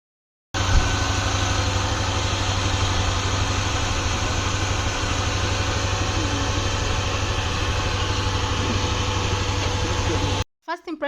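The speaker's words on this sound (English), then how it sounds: "this is a V6 engine, so it means it has 6 cylinders" A Mercedes-Benz V6 car engine idles with a steady, even hum that runs unbroken for about ten seconds before cutting off.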